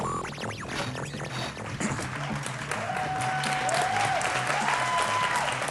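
Applause breaks out from a studio audience on a Mexican talk show and keeps rolling at moderate volume. A few cheers and whistles rise through it, and it swells louder toward the end.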